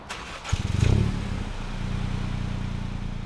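A Mini Clubman's turbocharged 1.5-liter three-cylinder engine cranks and fires with a short rising burst, then settles into a steady, close, low idle rumble with no talking.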